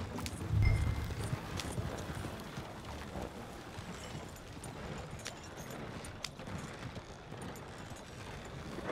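Hooves of horses pulling a coach clip-clop steadily in Red Dead Redemption 2, a continuous mid-level rhythm under dense outdoor ambience with a louder low thump near the start.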